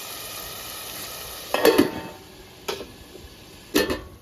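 Tomatoes cook in a covered pan for a fish gravy, a soft low sizzle underneath with a few sharp clinks and scraping knocks of a spoon or lid at irregular moments.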